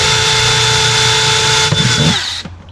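A power drill fitted with a 9–10 mm wood bit bores a drainage hole in a planter: a loud, steady motor whine close by that wavers briefly as the bit bites, then winds down and stops, with no speech.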